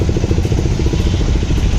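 A KTM Duke 200 BS6 motorcycle engine runs steadily and loud up close, its rapid, even firing pulses forming a continuous throbbing clatter throughout, with no voices over it.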